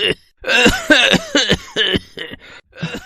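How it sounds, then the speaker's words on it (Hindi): A rapid series of loud, harsh coughs in bursts, one after another with short gaps, close and alone. "सुबह जब उसकी नींद खुली तो वो जोर जोर से खांस रहा था।"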